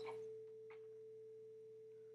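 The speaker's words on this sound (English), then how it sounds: "There's our sine wave. Okay, now you can hear that's at 440 Hertz." A steady pure electronic 440 Hz sine wave tone from Pure Data holds at one pitch throughout, clean and continuous, after a faint brief noise at the start.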